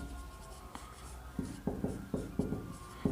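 A pen or chalk writing out a math proof, with several sharp close taps and scratchy strokes in quick succession, growing busier toward the end.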